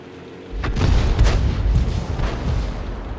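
A Lorraine 155 mle.50 artillery gun firing a shell in a tank game: one sudden, heavy boom after a quiet half second, then a rolling, rumbling tail that lasts for the rest of the clip.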